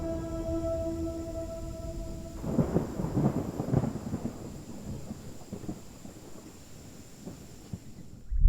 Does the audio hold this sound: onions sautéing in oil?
no